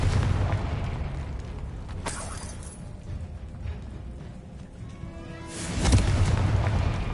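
A Confringo fire spell blasts in the Hogwarts Legacy video game, two booming bursts roughly four seconds apart over a steady rumble of game ambience.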